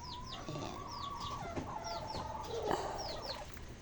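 Chickens clucking in a home yard, a busy mix of repeated clucks and squawks from several birds at moderate distance, with rustling in the background.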